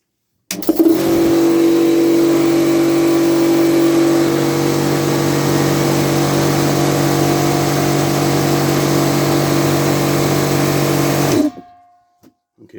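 An air compressor with a newly fitted pressure switch, its top still off after rewiring, starts with a sharp jolt and runs steadily with a loud, constant motor hum for about eleven seconds before abruptly cutting out.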